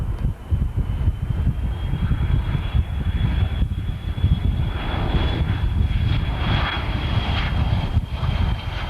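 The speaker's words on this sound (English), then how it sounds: "He's slowly descending. This is quite a large airport." Fixed-wing airliner descending toward a large airport, a steady loud engine roar with a thin high whine, heard continuously from the ground without talk.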